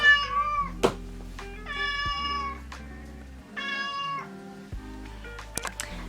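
A domestic cat meows repeatedly near the microphone in a quiet room, several drawn-out, tonal cries with short pauses between them and a few soft clicks and knocks.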